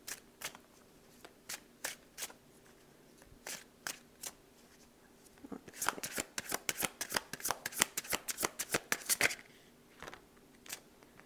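A deck of tarot cards is shuffled up close, first as scattered single snaps and slides, then as a dense rapid riffle of crisp flicks lasting several seconds, with no talk.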